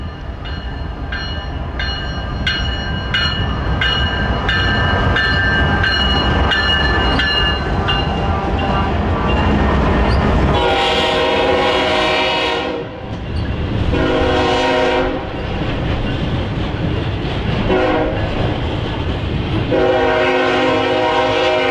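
A Norfolk Southern freight train rolls past close by, its horn blaring in repeated long blasts over the heavy rumble and clatter of wheels on rail.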